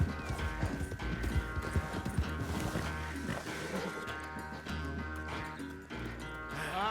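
Horse hooves clip-clop steadily while riding in Red Dead Redemption 2, a dense rhythmic gallop mixed with game music and ambient layers, continuous and fairly loud throughout.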